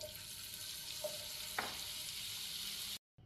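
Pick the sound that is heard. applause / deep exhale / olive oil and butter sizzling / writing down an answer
olive oil and butter sizzling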